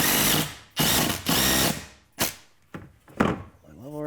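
A power drill drives screws into wall studs while a 2x4 for a scrap-wood garage workbench is fastened in place, with several short loud whirring bursts, each rising and then cutting off, close by.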